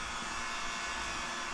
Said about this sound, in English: So now we got the vacuum running for like 40 minutes or so.